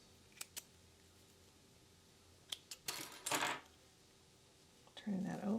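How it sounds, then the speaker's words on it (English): A few crisp scissor snips trim loose threads on a handmade fabric wristlet, spaced apart and close, followed by bursts of rustling fabric handling. "We're going to trim off any loose threads."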